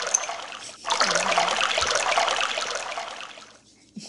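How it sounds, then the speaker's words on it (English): Tap water runs steadily as hands are washed, a close trickling splash that fills most of the moment before cutting off near the end, with no one speaking. "I guess you wash your hand like this"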